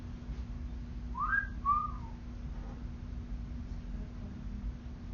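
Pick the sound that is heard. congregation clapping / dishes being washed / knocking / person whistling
person whistling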